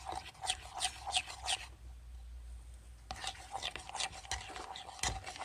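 Spoon stirring mocha latte protein pudding in a pot on the stove, close scraping strokes in quick bursts that pause for a couple of seconds, then resume.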